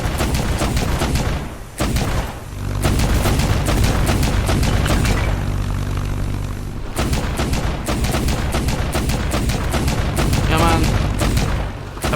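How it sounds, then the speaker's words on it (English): Cannon fire in the airship action game Black Skylands, a dense run of rapid booming shots with game music and effects underneath, briefly pausing before the barrage resumes, loud and continuous. "I'm just spamming rounds like crazy and not landing any shots successfully."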